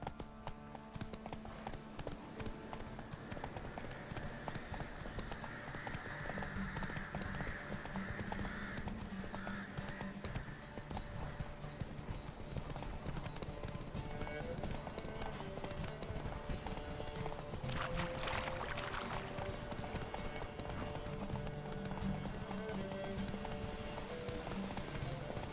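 Horse hooves clip-clop steadily through the whole stretch in The Witcher 3, a continuous trotting rhythm with an occasional whinny, layered over game music and ambient background.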